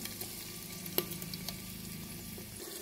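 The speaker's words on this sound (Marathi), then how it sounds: "तेलामध्ये या मसाल्याला चांगल्या प्रकारे भाजायचं." A soft, steady sizzle of ground spice paste frying in oil, with a few light knocks and scrapes from stirring, quiet and close.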